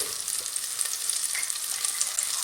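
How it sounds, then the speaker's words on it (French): Butter and olive oil fry in a pot for a pumpkin soup, a close, loud, dense sizzle that crackles steadily without a break, and nobody speaks. "J'ai mis un tout petit peu de beurre dans une marmite et j'ai fait colorer, alors je mets un tout petit peu d'huile d'olive par-dessus"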